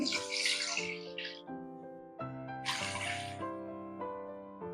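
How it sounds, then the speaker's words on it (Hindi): Water is poured into a cooking pot of fried garlic, tomato paste and mixed spices while making Arabic Bukhari rice: two splashy pouring bursts over steady background music. "डेढ़ कप पानी डालेंगे"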